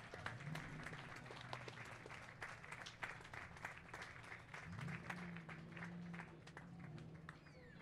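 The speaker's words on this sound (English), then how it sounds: "Give them a round of applause for all the lovely ladies there." Scattered crowd clapping at an outdoor Fourth of July parade in Old Town Temecula as the California Regional Pageant float passes, faint and distant, with irregular claps over street noise and a low background hum.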